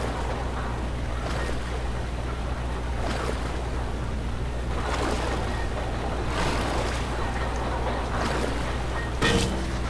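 A fast spinning water wheel in the Amnesia video game gives a steady rushing, churning water roar with low rumble, constant throughout, with periodic surges and a brief sharp knock near the end.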